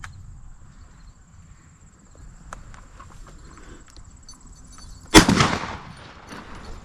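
A single sharp shotgun blast rings out during a dove hunt, loud and sudden after several seconds of quiet outdoor ambience with faint insects and small rustles.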